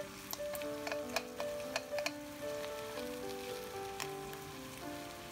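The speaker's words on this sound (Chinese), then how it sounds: "继续翻炒，肉里的油又出了很多。" Pork belly stir-fried with rock sugar in a wok as the fat renders, a soft sizzle under sharp metallic spatula clicks and taps that repeat irregularly.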